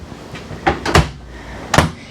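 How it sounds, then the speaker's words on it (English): A Norcold 12-volt RV refrigerator door is pulled open in a travel trailer kitchen, giving a few close, sharp clicks and thumps with a quiet pause between them and no talking. "This door is a little weird to open"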